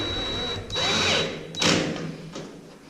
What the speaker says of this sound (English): So I'm just letting the gun tighten it down.